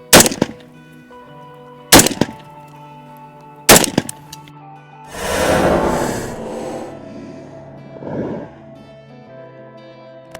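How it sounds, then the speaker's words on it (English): Three sharp, loud AR-15 shots of 5.56 FMJ rounds punch into a car windshield, spaced about two seconds apart, followed by a swelling rush of noise and a softer later thud, with no talking. "now I'm going to do 3 rounds of FMJ. We're punching into the windshield."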